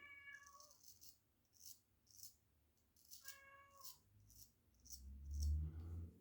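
A house cat meows from downstairs in short repeated calls, faint and somewhat distant, mixed with light metallic rattling and a thud near the end.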